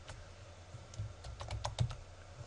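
Computer keyboard keys pressed in a quick run of shortcut strokes while working in Photoshop, several crisp clicks clustered together, close and fairly quiet with no talk.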